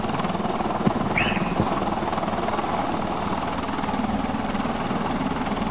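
An Osprey tiltrotor in a video game comes in to land, its rotors producing a steady, heavy thudding drone that stays even and fairly close, with a faint high tone above and a couple of small clicks.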